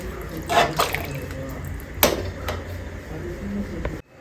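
Water poured into a pot of simmering chicken kulambu, a short splashing and trickling with a few drips, moderately close, ending abruptly.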